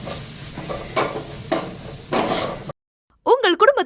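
Onions frying with fried rice masala in a pan, heard as a steady sizzle with periodic stirring scrapes, followed by a short silence and then a person speaking.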